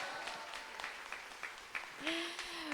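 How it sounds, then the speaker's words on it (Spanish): An audience at a church women's panel discussion claps in a moderate, steady round of applause, with a voice rising briefly near the end. "Por favor, denme otro aplauso a Vale."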